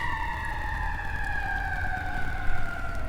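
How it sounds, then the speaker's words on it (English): A siren sounds one sustained tone that slowly slides downward in pitch over a low rumbling background, continuous and fairly near, with no voices. "This is exactly what I was missing, the siren."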